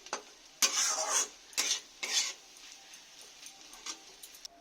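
Sliced snake gourd is stirred and fried in a pan, with a spatula scraping in several loud, close bursts over a soft background sizzle; no one speaks.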